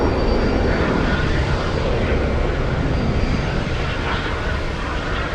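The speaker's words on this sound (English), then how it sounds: "Taking off on the longest runway." Alaska Airlines airliner taking off from the runway at Boston Logan, a loud, dense jet roar that stays steady and close for the whole stretch.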